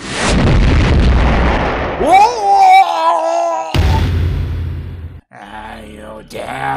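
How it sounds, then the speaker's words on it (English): A cartoon bomb explosion opens with a loud, rumbling blast that decays over about two seconds, followed by squealing cartoon voices and music. "bomb."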